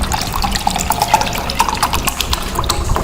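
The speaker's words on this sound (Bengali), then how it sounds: "তো এবার আমি জল দিয়ে দিচ্ছি" Water poured from a tap into squeezed lemon juice, a steady close splashing trickle of liquid filling a container, with small drip-like bright notes scattered through it.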